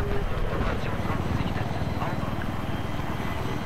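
A military helicopter in the multiplayer shooter Battlefield 3, its rotor a steady loud thudding chop with engine whine that fills the whole stretch, under occasional game noise.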